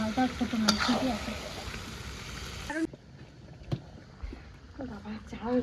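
Marinated meat and sliced onions sizzle in a small wok, with frying hiss and stirring scrapes, a clatter partway through, and people talking over it.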